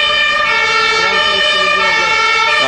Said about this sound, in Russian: просто скорая едет